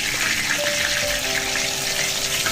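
Pieces of garlic pork deep-fry in hot oil, giving a continuous, even hissing sizzle close up, with no talk over it.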